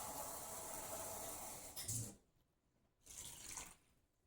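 Water runs from a kitchen tap while a pot is filled for a simmer pot, a steady hissing stream that stops briefly and then starts again.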